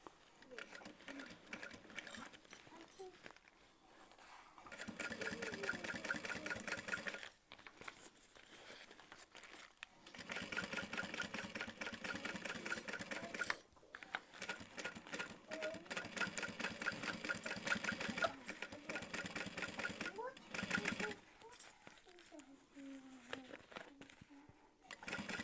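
A sewing machine stitches the Emma Backpack in a long, steady run of needle chatter, stopping and restarting a few times as fabric crinkles and is shifted between runs.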